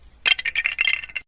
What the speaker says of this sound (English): Let's import the Lego sound.